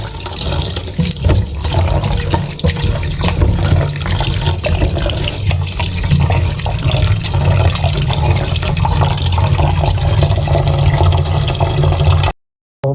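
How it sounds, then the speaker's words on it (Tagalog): Water pours steadily and loudly into a pot for several seconds, a continuous splashing rush that cuts off abruptly at the end. "Tubig. Akin po nilalagyan na po ng sabaw"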